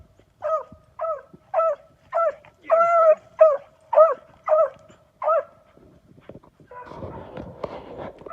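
Beagles bay in a steady series of about ten loud, howling barks while hunting white hares, then a rustling, crashing noise through brush follows.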